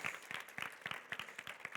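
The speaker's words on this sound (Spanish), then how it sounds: "vamos a comenzar con un aplauso así de gracias a Dios" A church congregation applauding together: steady, dense clapping from many hands, close and lively, with no talking over it.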